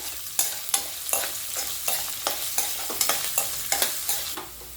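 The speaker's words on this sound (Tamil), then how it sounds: "இப்போ நல்லா வதக்கிக்குவோம்" Chopped green chilies and a large onion sauté in a pan under a soft background sizzle, punctuated by a regular series of sharp spatula scrapes and stirs, about two per second, close and without speech.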